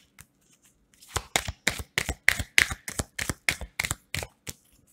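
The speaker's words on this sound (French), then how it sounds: "on reprend le groupe de cartes et puis on va rajouter une carte de chaque côté, de chaque groupe" Tarot cards are handled and laid out in a quick series of about a dozen crisp, evenly spaced snaps and flicks, close and fairly loud, with no talking.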